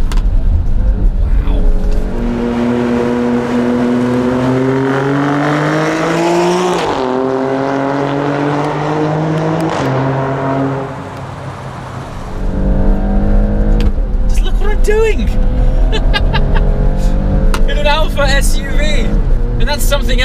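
A 2018 Alfa Romeo Stelvio Quadrifoglio SUV, four-wheel drive, accelerates hard with a loud rising engine note that drops sharply at each upshift, followed by a brief lull and renewed revving, while people talk over it from inside the cabin.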